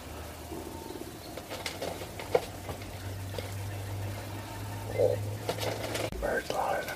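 Out in the South African bush a dove coos softly in a short, repeated call against a steady low hum, with hushed whispering voices nearby.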